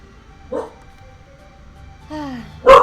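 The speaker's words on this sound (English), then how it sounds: "we got my dog barking" A pet dog gives a short bark, then a whining yip and a louder bark close by, with quiet gaps between.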